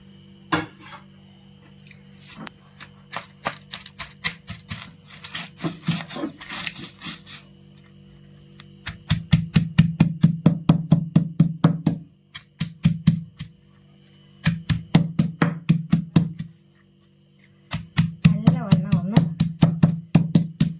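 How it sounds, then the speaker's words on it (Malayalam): Shallots and green chilies crushed coarsely for a prawn chutney, giving bursts of rapid, sharp pounding strikes in rhythmic runs, close and fairly loud, separated by short pauses with faint kitchen clatter. "ഇനി നമുക്ക് ഇതിലേക്ക് ചുവന്നുള്ളിയും അതുപോലെ തന്നെ പച്ചമുളകും കൂടി ചതച്ചെടുക്കാം"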